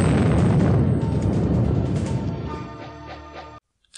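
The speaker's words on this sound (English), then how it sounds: "there was a massive explosion as the rig blew up" A massive explosion as an oil rig blows up: a loud, sustained roaring blast with a dense rumbling body that slowly fades over about three and a half seconds, then cuts to silence.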